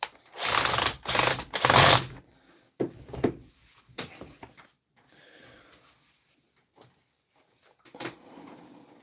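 Close ratcheting clicks from a hand tool driving screws during a workshop repair, several loud bursts early, then sparser, fainter clicks and knocks with quiet gaps between.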